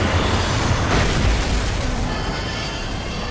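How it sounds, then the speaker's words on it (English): Flashbang grenade going off in a film: a loud, broad boom right at the start that rumbles and fades into a long noisy ringing tail, with no talk. "Flashbang."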